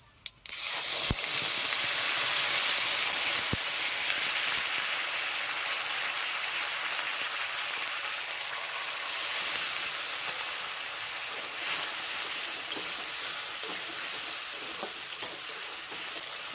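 Whole spices crackle and sizzle steadily in hot mustard oil for a Bengali cabbage ghonto, a dense continuous frying hiss with a couple of sharp pops at the start, close and loud with no talking.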